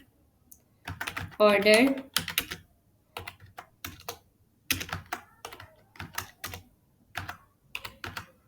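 Fingers tap out a string of quick, close keystrokes on a computer keyboard in uneven bursts while typing, after a brief spoken word near the start.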